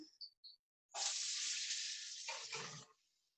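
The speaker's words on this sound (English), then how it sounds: "I'm going to put my onions now into the pan." A few short clicks, then a sudden loud sizzle as onions hit a hot frying pan, hissing steadily for about two seconds before settling and fading.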